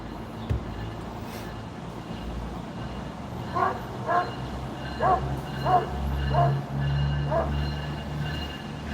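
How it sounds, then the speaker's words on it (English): A dog barks repeatedly in the middle of the stretch, a run of six or so sharp yips at moderate distance over a low rumbling background hum. "That dog's really plucking my nerves."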